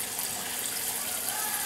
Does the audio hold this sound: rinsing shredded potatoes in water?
yes